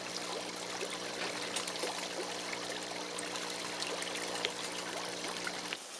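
Old urine water being poured onto a garden, a quiet steady trickle and splash of liquid running continuously for several seconds before stopping near the end.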